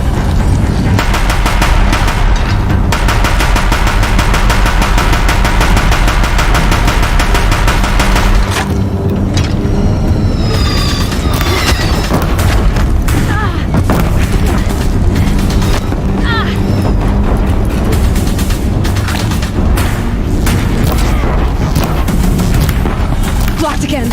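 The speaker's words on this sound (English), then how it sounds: "If the Deathbringers keep firing, this bridge will go" Deathbringer machines in Horizon Zero Dawn fire on a bridge with loud, dense bursts of rapid gunfire and booming impacts throughout, under intermittent talk.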